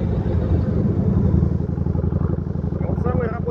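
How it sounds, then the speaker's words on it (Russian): A Yamaha XV 1600 Road Star motorcycle with an aftermarket exhaust idles and rumbles nearby, a loud, deep, steady pulsing throb, with someone talking over it toward the end. "Но звук здесь вообще не уступает Харлею. Прям, особенно с этим выхлопом."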